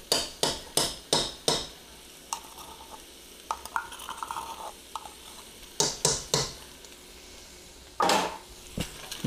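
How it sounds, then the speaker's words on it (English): A spoon stirs ground meat coated in tomato paste in a pot for taco soup, with a run of quick loud scraping strokes at the start, softer sizzling and clinks in the middle, then more sharp stirring bursts near the end. "Mix it all up in there, get that tomato paste covering up that meat the best you can"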